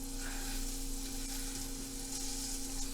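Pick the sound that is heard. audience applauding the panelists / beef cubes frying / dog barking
beef cubes frying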